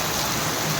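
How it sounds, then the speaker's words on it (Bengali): Continuous rain pours steadily close by in a dense, unbroken hiss, with no voices over it. "চলে আসার পরে এত বৃষ্টি কন্টিনিউ 1 ঘন্টা হয়ে গেছে বৃষ্টি"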